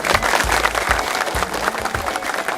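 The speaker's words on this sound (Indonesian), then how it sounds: "Boleh tepuk tangan." An outdoor crowd at a presidential visit in Tuban, East Java, breaks into brisk, dense clapping, close and continuous for a few seconds.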